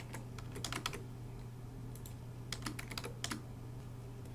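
Close, quiet typing on a computer keyboard, several short bursts of key clicks entering a zip code into an online bill-pay form, with a steady low hum beneath.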